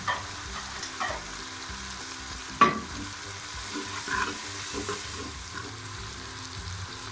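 Tomatoes and ginger-garlic paste frying in a pan over browned onions, a soft continuous sizzle with occasional stirring clinks and scrapes, close by and with no talk.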